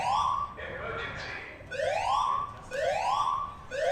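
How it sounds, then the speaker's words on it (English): A fire alarm wails at an athletics stadium during a relay championship, sounding as repeated rising electronic sweeps that come in loud, regular bursts and echo across the venue. "it wouldn't be a relay championships without an emergency fire alarm"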